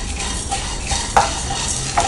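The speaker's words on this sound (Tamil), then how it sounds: "இதில் கடலைப்பருப்பு நல்லா வறுத்துக்கலாம்" Chana dal dry-roasted in a kadai and stirred, a continuous scraping rustle of dry lentils against metal with a few light clinks of the spoon, close and steady without talk.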